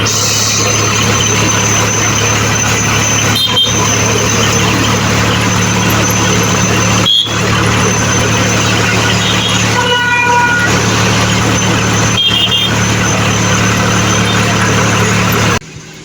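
A tractor engine idles steadily with a constant low rumble and hum, a few brief tonal squeaks cutting in, before it stops abruptly near the end.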